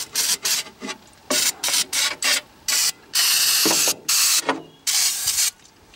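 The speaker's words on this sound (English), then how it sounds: "you gotta blow it out with the aerosol can" Compressed air hisses from an aerosol duster can in short, repeated bursts while water is cleared from a leaking aluminum boat seam, with a couple of longer sprays, close and fairly loud.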